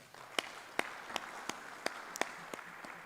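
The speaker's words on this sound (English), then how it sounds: "So clap for the moderator." Evenly spaced hand claps ring out at a steady beat, faint and somewhat distant, over a quiet room hum, applauding the moderator at a general assembly of the African Man and Biosphere Reserves Network.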